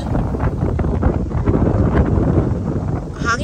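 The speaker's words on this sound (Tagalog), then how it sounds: "Hangin kay diri sa bridge, guys." Strong wind blows across a bridge in Umeå, Sweden, buffeting the microphone with a loud, rough, steady rush for a few seconds.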